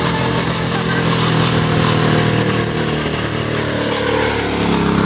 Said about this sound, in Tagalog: Pasensya na sa naririnig nyo guys na motor.